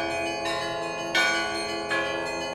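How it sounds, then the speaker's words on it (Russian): Large church bells ring in a loud, resonant peal, with fresh strikes about every 0.7 seconds layered over a long ringing sustain. "раскатистый – все это про колокольные перезвоны."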